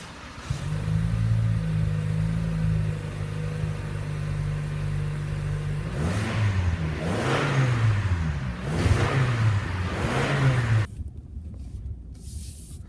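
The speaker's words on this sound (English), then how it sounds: "We are taking this Camry out for a drive, see how it feels" A 2018 Toyota Camry driving in normal mode gives a steady, close engine and road hum that runs throughout, with a few rising and falling surges partway through before the sound drops off near the end.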